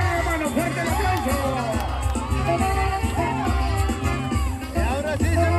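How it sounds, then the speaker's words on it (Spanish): Crowd at a jaripeo bull riding event in Ciudad del Maíz, San Luis Potosí, cheering, whooping and shouting in a continuous loud roar, with background music and babble running throughout. "¡Fuerte el aplauso!"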